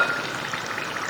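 Onion rings frying in hot oil give a brief, bright, crackling sizzle, close and fairly loud, with no voices.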